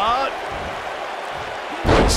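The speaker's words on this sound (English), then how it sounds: "Sickening thud as his body is driven to the mat." A wrestler's body is slammed onto the ring mat during a WWE Elimination Chamber match, a heavy thud that lands near the end over a steady arena crowd roar.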